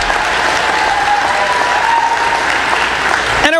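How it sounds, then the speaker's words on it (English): A loud, steady wash of applause from a large crowd at a college commencement, continuing throughout before cutting off abruptly at the end. "Give Veronica a round of applause."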